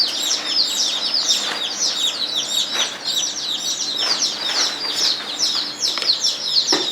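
Baby chicks peep constantly in a brooder, a dense chorus of high, overlapping chirps close by, with no voices.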